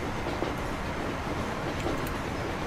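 A diesel Metroliner passenger train with its carriages rolls along in Transport Fever, giving a continuous low rumble and rail clatter at an even, moderate level with no voices.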